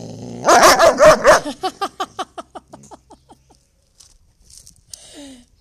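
A dog lets out a burst of loud, close barks that quickly turn into a rapid string of shorter, fainter yaps and die away, followed by a few quiet rustles.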